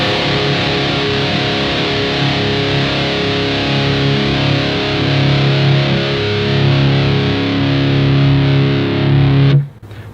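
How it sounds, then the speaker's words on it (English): Electric guitar with hot Invader pickups played through heavy distortion, thick sustained chords ringing loudly and alone for about nine seconds before cutting off abruptly. "let's give it a little test on some distortion, see how it sounds with these really hot Invader pickups"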